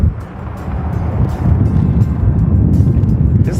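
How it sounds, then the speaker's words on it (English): Aircraft engines revving together on a flight line before takeoff, a loud steady low rumble with broad wind-like roar that swells slightly and holds, no voices. "They're at the deal where they're all on the flight line, revving their engines for takeoff."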